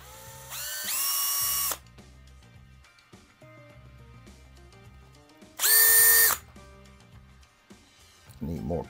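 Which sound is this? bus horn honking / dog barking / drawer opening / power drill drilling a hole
power drill drilling a hole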